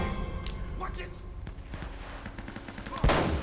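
Gunfire in the Uncharted: Drake's Fortune video game, a scattered run of sharp shots and a heavier blast near the end, mixed with game ambience and a person talking over it.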